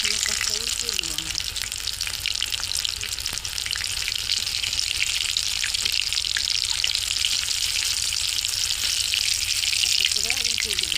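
Prawn chops fry in oil on a stove over low heat, giving a steady, close, continuous sizzle and crackle with faint voices underneath.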